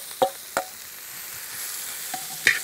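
Sliced onions frying in hot oil for a beef ribs curry, a steady soft sizzle with a few sharp spoon clicks against the pan, close and without talk.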